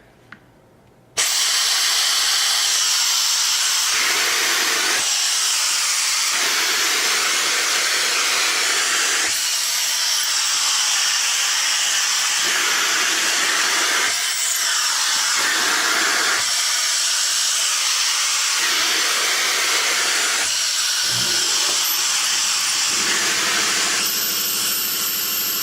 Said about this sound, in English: We have about 48 SCFM of vacuum flow through the gripper, so we should be able to pick this bag up no problem.